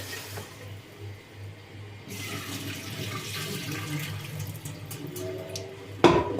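Food rinsed under a running kitchen tap: quiet room tone at first, then a steady rush of water that continues, ending with a brief splash or clatter near the close.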